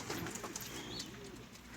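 Pigeons coo softly inside a coop, a faint, low murmuring of several birds over quiet background noise, with no voices.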